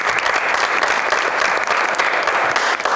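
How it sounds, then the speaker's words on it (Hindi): Steady, loud applause from a studio audience on a Pakistani talk show, honoring a guest at the end of an episode; continuous dense clapping fills the whole stretch with no talking over it. "बहुत सारी तालियां"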